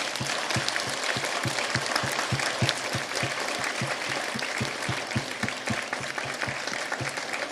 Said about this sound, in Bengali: মনটা ভরে তালি দিই।